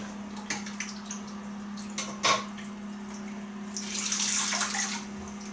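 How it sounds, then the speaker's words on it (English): Cold tap water runs into a sink for a post-shave rinse, a soft steady splash with a few drips, swelling louder near the end over a constant low hum. "Just a bit of cold rinse."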